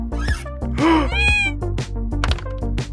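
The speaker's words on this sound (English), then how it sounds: "Oh my god, look at this cat!" A virtual cat in the mixed reality game Neko Atsume meows several times in quick succession, loud and near, with bright rising and falling calls set in a living room.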